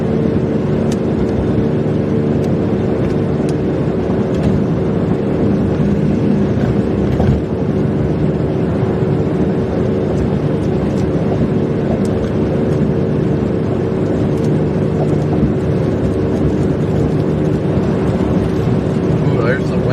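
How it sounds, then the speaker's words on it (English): Strong wind blows ahead of an Iowa storm, a loud, continuous roar buffeting the microphone alongside a steady vehicle rumble, with no break across the whole stretch. "Ooh, there's the wind."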